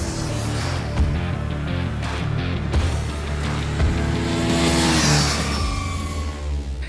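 A KTM 250 Duke motorcycle engine revs hard and quickly at a track day, its pitch climbing and dropping in repeated bursts, loud and close.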